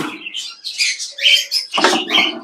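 Parrots inside a breeding box on a large parrot farm give a close, busy burst of rapid chirps, squawks and scratchy chatter, several birds overlapping continuously with no talk.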